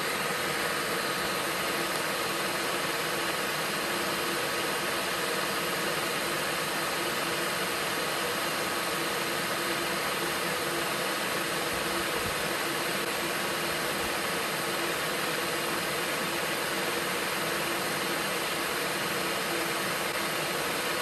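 Dyson V15 Detect cordless vacuum running in auto mode with a slow brush roll, a steady loud broadband whirring hiss with a faint tonal hum, unchanging throughout and with no voices.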